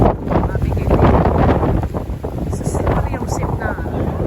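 Strong wind roars and buffets the microphone in a loud, uneven rumble that rises and falls throughout.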